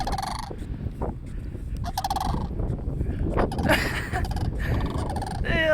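Several cranes call outdoors, loud, rattling, trumpeting cries that come in overlapping bursts, some near and some farther off, over a low rumbling background.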